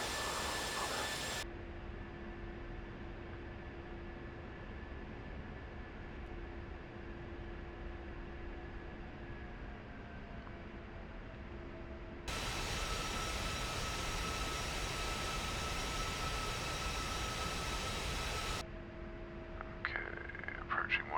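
A steady aircraft engine drones through a landing approach in Iron Flag, a constant hum and whine with a noisy rushing band that shifts in level midway, broken only by brief clicks near the end and no speech.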